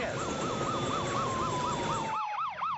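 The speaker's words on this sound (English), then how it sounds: "Squealing tires, wailing sirens" An emergency siren wails in a rapid repeating yelp, loud and close, with a second warbling siren joining near the end, in Lancaster, California.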